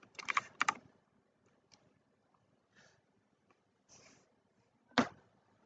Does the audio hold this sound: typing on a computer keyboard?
yes